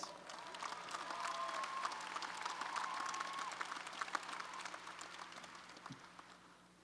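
Commencement audience at the University of Massachusetts Boston applauding a student trustee, a steady wash of clapping from a large crowd that holds for several seconds and thins toward the end.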